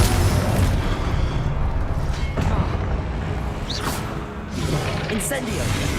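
A Confringo fire spell explodes in the video game Hogwarts Legacy, a booming blast set in a dense, continuous wash of game combat noise, with a voice speaking over it throughout.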